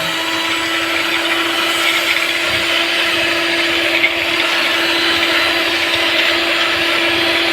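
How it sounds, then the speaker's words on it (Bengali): Egg whites being whipped with an electric beater for a cake: a steady, loud motor whine and whirr that runs unbroken throughout, close to the listener. "সাদা অংশটুকু আমি ইলেকট্রিক বিটারে বিট করে নেব।"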